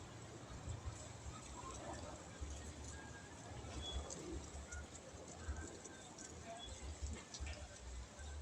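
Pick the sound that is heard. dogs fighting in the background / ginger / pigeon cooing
pigeon cooing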